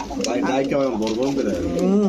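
Red checker racer pigeons, kept with leg rings, coo in low rolling phrases close by while people talk over them.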